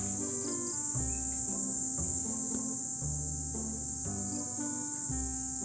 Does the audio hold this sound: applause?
no